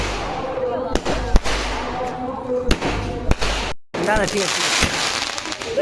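Firecrackers burst during Kali Puja celebrations, with sharp, loud bangs popping at irregular intervals both overhead and near the ground while people talk close by.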